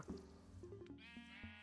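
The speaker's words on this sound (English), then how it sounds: "sheep." A Minecraft sheep bleats in a quick wavering series of baa calls, each short and pitched, faint and alone with a few soft clicks between them.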